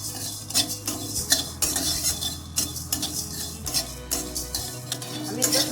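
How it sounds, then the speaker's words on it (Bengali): Whole spices are fried in a pan and stirred, giving a light sizzle under repeated scraping and metal clinks from the stirring utensil, close and busy throughout. "গোটা মশলাগুলো এবার আমি ভেজে নেব। মশলাগুলো হালকা ভেজে নেব।"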